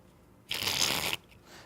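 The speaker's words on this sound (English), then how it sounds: "that's the Russian shuffle" Playing cards riffle together in a Russian shuffle, a single dense burst of crisp fluttering clicks lasting under a second, close and alone against quiet.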